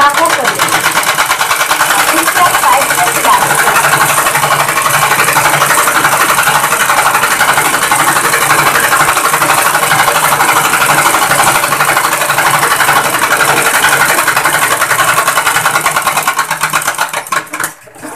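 A tailoring sewing machine stitching fabric for a ladies' suit, running in a loud continuous whir close by for nearly the whole stretch before slowing to a stop at the end.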